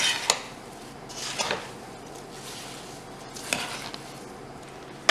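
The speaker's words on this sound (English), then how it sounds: "just give this a stir and put it on your stove top on medium high" A spoon stirs low-sugar strawberry rhubarb jam in a pot on the stovetop, making a few close, irregular scrapes and clinks against the pot with quiet pauses between.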